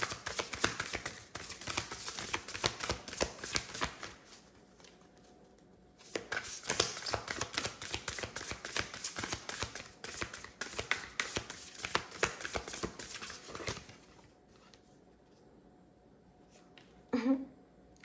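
A deck of oracle cards is shuffled by hand in two long, close riffling bursts with a short pause between, soft crisp flutter and slaps, then quiet handling at the end.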